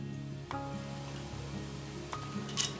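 Cauliflower-leaf mash sizzles steadily in a pan as a little raw oil goes in, a continuous low frying hiss with a couple of brief soft stirring clinks, close and alone without talk.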